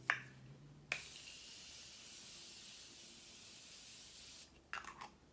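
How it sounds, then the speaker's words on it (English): Morphe Continuous Setting Mist sprayed onto a face: a soft click, then a long steady hiss of fine mist lasting several seconds, followed by a couple of light clicks and rustles, quiet and close. "To set my face, I'm going in with the Morphe Continuous Setting Mist."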